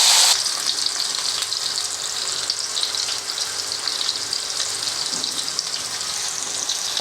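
Potato pieces sizzle steadily in hot oil in a pan for a Tamil potato fry, a constant close crackling hiss with no voices.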